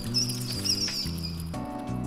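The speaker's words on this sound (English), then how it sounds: "Giant rat just ran past me super huge." Giant rat scurrying past in the video game Persona Q2, a quick pattering rush with faint squeaky chirps, brief and close, over a droning game music background.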